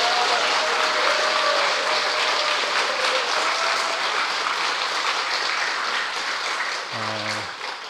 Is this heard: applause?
yes